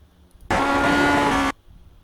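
A Lotus 49 race car engine in iRacing's Grand Prix Legends at Magny-Cours blares loudly for about a second, then cuts off abruptly, with near silence before and after.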